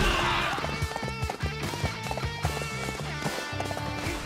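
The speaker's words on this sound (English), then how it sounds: "Let's call my horse and try to get this guy." A summoned horse gallops in Samurai Warriors 5, with rhythmic hoofbeats repeating steadily under game music and a voice talking.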